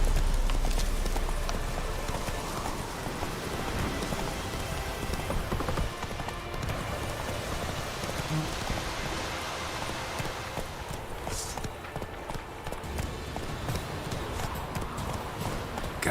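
Roach, the horse in The Witcher 3, gallops with a steady clip-clop of hooves that runs on for the whole stretch, loud and close, with a faint neigh at one point.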